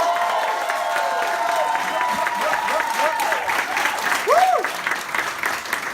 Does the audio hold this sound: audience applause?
yes